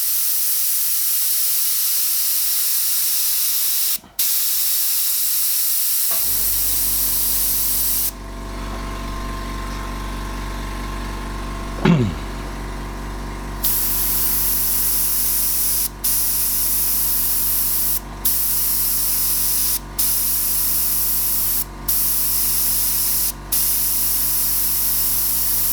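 An airbrush spraying red paint gives a steady hiss, with short breaks where the trigger is released, a quieter stretch in the middle, and a run of brief cut-offs toward the end.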